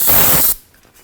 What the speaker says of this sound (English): brake parts cleaner